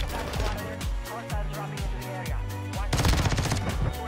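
Gunfire in the video game Warzone, credited to the OG pump shotgun, rings out in a string of sharp, loud reports over a steady music bed, with a denser burst of rapid shots near the end.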